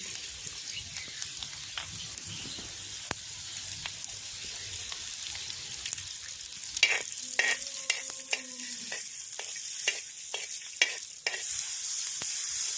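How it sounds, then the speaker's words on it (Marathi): Peanuts and coriander seeds roasting in hot oil in a pan give a constant fine sizzle, joined midway by a run of close scraping stirs with a spoon. "धणे पण या शेंगदाण्यामध्ये भाजून घ्यायचे तेलामध्ये"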